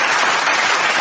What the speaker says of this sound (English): It was an applause.